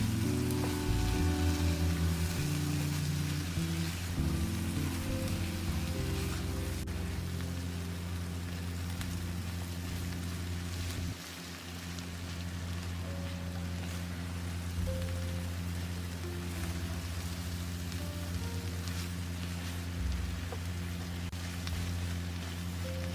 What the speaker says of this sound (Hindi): अब आखिर में जो हरी मिर्चें काट कर रखी थी वो भी शामिल कर देंगे और 1 से 2 मिनट अंडों को मज़ीद फ्राई करने के बाद डिश आउट कर लेंगे।